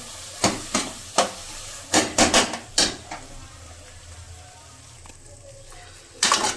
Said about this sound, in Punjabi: ਸਾਡੇ 2 ਮਿੰਟ ਹੋ ਗਏ ਪਨੀਰ ਨੂੰ ਭੁੰਨਦੇ ਨੂੰ